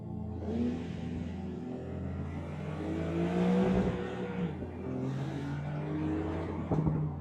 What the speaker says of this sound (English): And we can hear the exhaust.